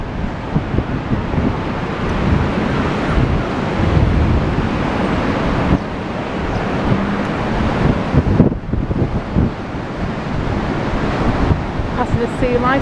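Wild surf and gusting wind along the Blackpool promenade, a steady loud roar of breaking waves and buffeting wind noise across the whole stretch, with faint traffic underneath.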